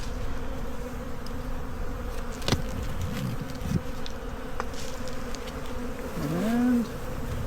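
Honey bees buzz in a dense, steady drone at a hive entrance, with individual bees whining past up close now and then, including one loud near pass toward the end.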